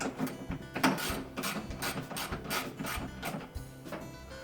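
A bolt tightened by hand on a Whirlpool washer motor during a repair, close rhythmic ratcheting clicks and mechanical rubbing in a quick repeated series, with no talk.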